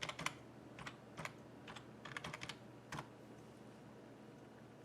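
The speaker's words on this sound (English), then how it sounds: "We just type in Weekender." Keys on a computer keyboard being typed in short bursts as a search term is entered, close and fairly quiet, with irregular clusters of clicks and pauses between them.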